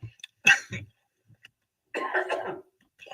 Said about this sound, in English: got caught up with a cough out of nowhere